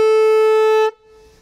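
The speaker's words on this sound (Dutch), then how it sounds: "ze horen me meestal eerst met de toeter" A boat's horn gives one loud, steady toot lasting almost a second and then cuts off abruptly, leaving a faint low hum.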